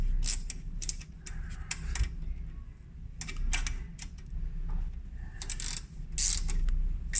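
A combination wrench tightens a brake caliper bolt on a 2002 Opel Corsa C, making a string of sharp metallic clicks and ratcheting creaks over a steady background hum, close up with no talk.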